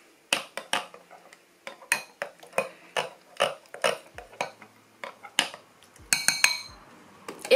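A utensil scrapes and clinks against a bowl while ingredients are mixed with a splash of lemon juice, giving a quick irregular run of close metallic taps and chinks with no talking.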